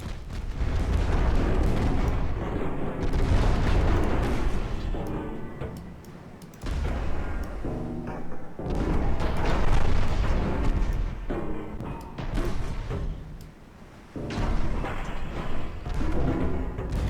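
Naval guns fire armor-piercing shells in a Brazilian naval campaign video game, a series of heavy booming salvos and rumbling blasts in bursts, loud and dense.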